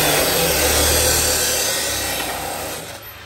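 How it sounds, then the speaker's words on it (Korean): Steady, loud grinding whir of a threading machine cutting threads onto a gas pipe on an indoor building site, tapering off slightly toward the end, with no one speaking. "이 신기한 기계는 가스관의 연결을 위해 나사산을 만들어주고 있습니다."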